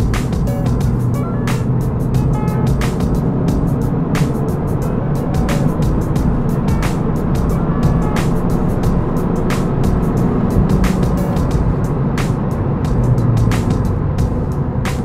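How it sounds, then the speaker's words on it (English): Tenth-generation Honda Civic Si with an AFE Power exhaust at wide open throttle, heard from inside the car as a loud, sustained engine drone with constant rumble and faint clicks over it. "So we're gonna give it a little wide open throttle run here and we'll show you that."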